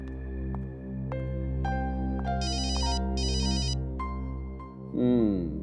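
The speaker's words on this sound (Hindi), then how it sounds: "देख लो, मुझे मालूम किसका फोन।" A mobile phone ringtone plays a repeating electronic melody of stepped tones with bright trilling bursts, steady and clear over a low background hum in a forensic lab setting.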